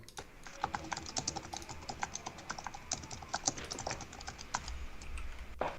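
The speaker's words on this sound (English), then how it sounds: "I can hear the furious typing" Rapid, continuous clatter of keys on a computer keyboard, busy and uneven, with a faint low hum underneath.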